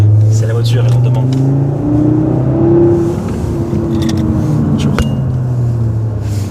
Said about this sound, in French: faut faire respirer un peu ce moteur qu'on puisse en écouter